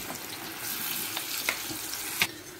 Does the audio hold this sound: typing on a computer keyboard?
no